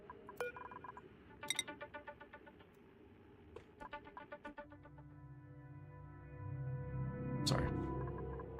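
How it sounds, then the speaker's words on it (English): A mobile phone rings over game audio, with repeating bursts of electronic tones in a steady rhythm that give way to a sustained melody, moderately loud and accompanied by talk. "I forgot to turn my phone on silent."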